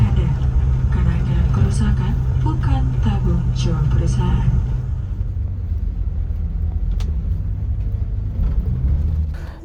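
A City Trans intercity bus from Bandung to Malang pulls in at a roadside restaurant stop, its loud, close engine rumbling low and steady, easing slightly partway through, with no voices.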